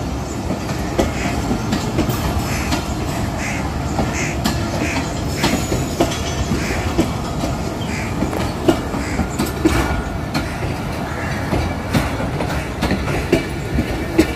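Shalimar Express passenger coaches rolling past at close range, a steady loud rumble of wheels with clickety-clack rail joints and intermittent brake squeal and scraping from one noisy coach.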